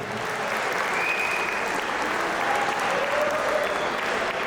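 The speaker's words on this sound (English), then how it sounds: "how about a round of applause for the parents of the groom, Ken and Leah." Wedding guests applaud for the parents of the groom during the speeches, a steady, even wash of clapping that holds throughout before cutting off at the end.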